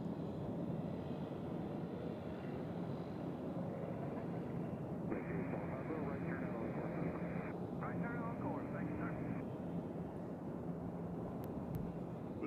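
Small passenger plane droning steadily near Nashville International Airport, a continuous low engine rumble that stays fairly distant and even throughout.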